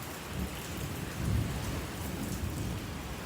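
Heavy rain pours steadily during a thunderstorm with lightning, a deep rumble of thunder swelling near the middle and fading back into the constant close hiss of rainfall.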